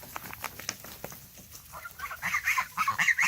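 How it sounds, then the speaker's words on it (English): Farmyard geese honk and squawk loudly at close range as a goose goes after a young turkey, the calls rising into harsher, rapid cries toward the end. "Uh-oh, there's Goosey after it, too."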